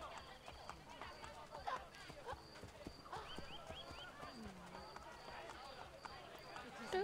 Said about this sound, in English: Trampled on by a horse.